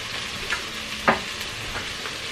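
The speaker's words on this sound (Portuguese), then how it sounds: "A calabresa já tá quase no ponto, tá, gente? Não pode ser tão frita, porque senão acaba ficando meio dura" Sliced calabresa sausage frying in a pan alongside bacon for caldo verde, giving a steady soft sizzle with one sharp spatter pop midway, close and without talk.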